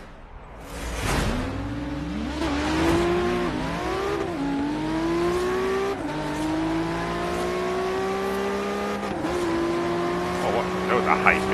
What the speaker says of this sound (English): That was a high-pitched engine noise.